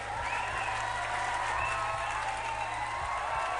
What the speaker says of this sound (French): tout le monde applaudit parce que vous chantez bien